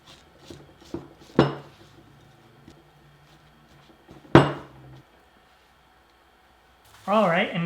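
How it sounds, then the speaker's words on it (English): A spatula mixes Oreo truffle mixture in a bowl, with clattering knocks and scrapes against the bowl, two louder thumps among softer taps, then a voice speaking at the end. "I'm going to just switch over to a spatula and just further mix"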